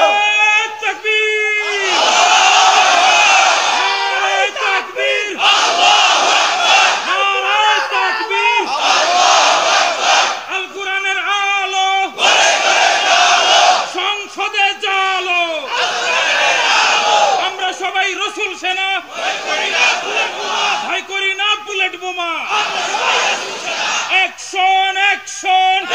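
A large crowd at a Bengali Islamic sermon shouts the takbir, Allahu Akbar, in loud, repeated chanted bursts separated by brief pauses, with voices massed close and strong throughout.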